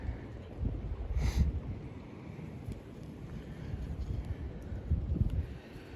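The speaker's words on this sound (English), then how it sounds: "That wind is just a killer when you're trying to see right where your line is." Wind gusting outdoors by a creek during early spring fishing, a low, rough rumble buffeting the microphone in uneven waves, fairly faint, with no talk.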